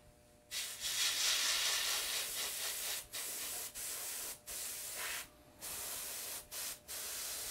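An airbrush hisses out face paint for Maleficent-style makeup in several steady bursts of close, airy spray separated by short pauses, with no talking.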